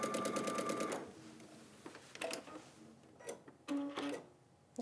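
Sewing machine doing free motion quilting, a close rapid stitching run at first followed by short intermittent bursts and ticks.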